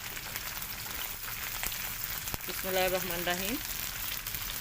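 Okra fries in a pan with garlic and chopped onion, a continuous close sizzle with a faint clink of stirring and a short spoken phrase midway.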